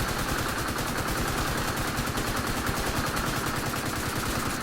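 Sustained automatic gunfire from The Division 2, a loud, unbroken stream of rapid shots with a dense, steady rhythm throughout.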